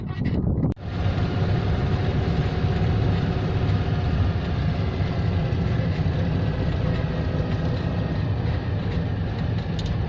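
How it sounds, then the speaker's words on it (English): A Citroen 2CV driving around a Toyota car meeting, with a steady droning engine and road rumble heard from inside the car, constant and fairly loud throughout with a single brief knock near the start. "We're going to go for a quick surreptitious drive around this Toyota meeting in a 2CV"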